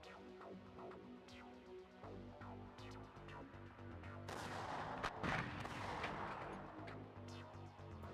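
Tank cannon fire in a real-time strategy video game, heavy booming blasts and rumbling explosions repeating over a low engine drone, growing louder and denser toward the end.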